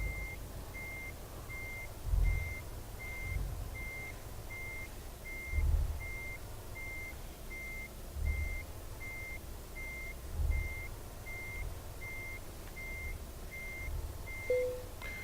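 A truck in the Euro Truck Simulator 2 game backs up with regular, evenly spaced reversing beeps over a low engine rumble that swells in periodic pulses.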